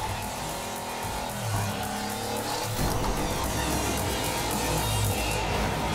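Toy cars race in the video game Hot Wheels Unleashed, a continuous roar of engines with whining revs, shifting pitch and tire squeal as cars pass, loud and busy from start to finish.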